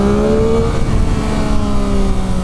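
A 2023/24 Yamaha MT-09 SP motorcycle accelerates through the gears, its engine a loud, close, steady roar with shifting tones throughout and no talking.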